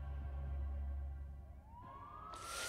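A siren in the game Leisure Suit Larry Wet Dreams Dry Twice starts over a low engine drone, its pitch sweeping upward into a rising wail before a burst of hiss at the end.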